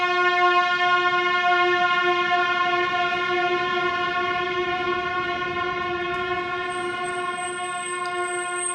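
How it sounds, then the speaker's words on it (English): A trumpet, heard from a moving bike, holds one steady sustained note that stays loud and clear throughout, its pitch drifting slightly as the rider moves, with faint road noise beneath. "let's hear what the trumpet sounded like from Greg's perspective on the bike"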